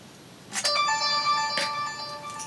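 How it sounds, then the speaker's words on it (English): A mobile phone ringtone plays a bright, bell-like melodic chime in two short bursts over a quiet room. "Just my phone."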